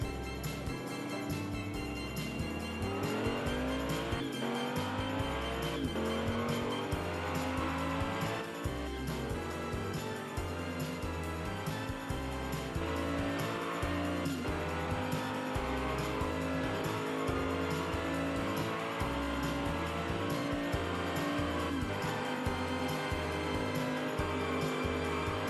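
Hot Wheels die-cast toy cars, a Mercury Cougar Eliminator against an SF90, racing down a track with continuous rattling, whirring wheel noise and repeated clacking bursts, fairly loud and close, no voices.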